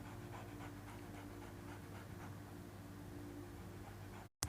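A dog pants steadily in the zombie survival game Into the Dead 2, a continuous breathy rhythm over a low droning game soundscape, with no talking, before cutting to brief silence near the end.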